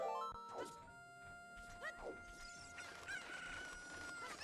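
Cuccos cluck and crow in Ocarina of Time, several overlapping chicken calls and a rooster-like crow at moderate level, with faint talk underneath.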